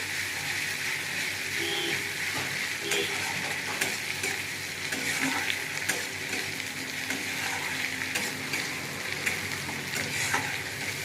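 Ginger garlic paste sputtering in hot oil while being stirred, a steady close sizzle running throughout with frequent spatula scrapes and small pops, no voices.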